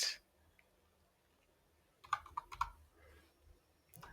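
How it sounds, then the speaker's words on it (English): Keys clatter on a computer keyboard in a fast burst of clicks partway through, with a few scattered taps at the start and end, fairly quiet against a low room hum. "The keyboard I'm using is not the best."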